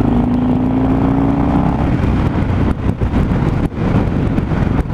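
A 2017 Harley-Davidson Low Rider motorcycle on a test ride, its engine a steady loud drone with a rising tone early on, heavily buffeted by wind noise across the microphone.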